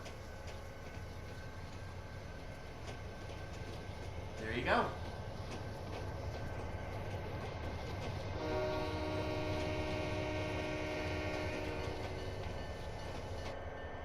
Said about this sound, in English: we're going to get a nice view of another train coming by here in just a second